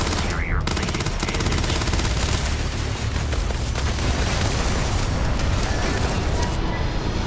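A grenade blast and rapid machine-gun fire from a Starfield firefight, loud and dense, with continuous bursts of shots rattling throughout and a voice speaking briefly over the din.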